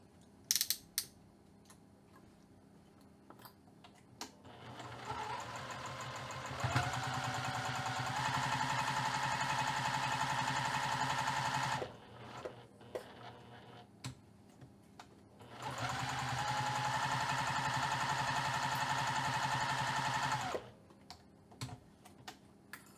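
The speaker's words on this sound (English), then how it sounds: "I'm going to go ahead and sew the pinned edges 1/8 of an inch away from the edge of the fabric." A sewing machine stitches pinned fabric edges 1/8 inch from the edge, whirring in two long steady bursts separated by a pause, with light clicks of handling before, between and after the runs.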